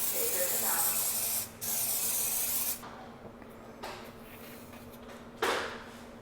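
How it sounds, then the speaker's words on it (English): Activator sprayed onto a car hood during custom hood trim installation, heard as a steady close hiss that runs for well over a second, followed by shorter bursts of spray with quieter gaps between. "I have a spray activator. I spray it on the hood"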